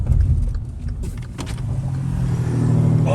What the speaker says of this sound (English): did you hear the engine?